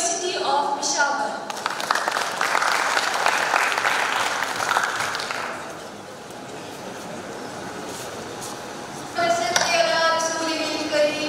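Audience applause at a university speech competition, a sustained broad wash of clapping across the hall that eases off midway, with an announcer's voice heard before and after.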